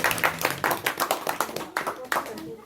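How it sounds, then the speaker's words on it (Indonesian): An audience at an Indonesian discussion gathering applauds a door-prize winner with a burst of close, lively clapping that swells and fades in waves, voices mixed in. "Tepuk tangan untuk Mas Agus."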